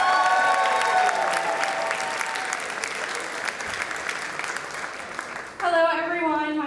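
Enthusiastic applause and cheering for the Centenary cheer team at a bicentennial kickoff birthday party, with dense clapping that gradually thins before music cuts in abruptly near the end.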